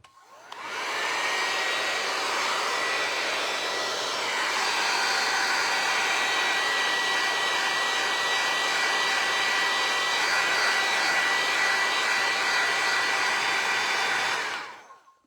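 Hair dryer blowing over freshly painted Christmas decor, a loud, steady whooshing whine running continuously at close range after switching on and cutting off near the end, with no voices.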